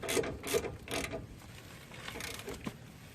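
A ratchet wrench tightening the 14 mm lower ball joint nut on a 1999 Toyota Tacoma, a few quick clicking bursts early on, then quieter intermittent turning and a final sharp tick, close by with no talk.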